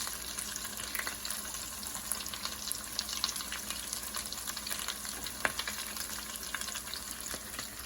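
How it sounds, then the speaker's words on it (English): Steady sizzling of potato tacos frying in hot oil, continuous crackle and pops throughout, close by with no talking. "And I'm going to keep frying."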